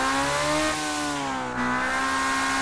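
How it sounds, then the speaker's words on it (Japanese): A Group C race car engine revs hard in Gran Turismo 7, a loud, sustained high-pitched wail that climbs, dips briefly, then surges again, close and alone with no talk. "まさにレーシングエンジン"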